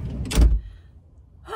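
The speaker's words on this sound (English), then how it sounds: "Let me close this door." A vehicle door swings shut with a single solid thunk near the start, on a roadside with Monday traffic rumbling low, then a brief higher sound near the end.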